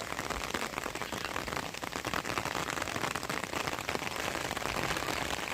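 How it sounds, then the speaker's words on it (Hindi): Heavy rain pours down in a dense, continuous hiss, drumming steadily on surfaces nearby with no pauses. "जोरदार तरीके से बारिश पहुँच चुकी है अब हमारे पास"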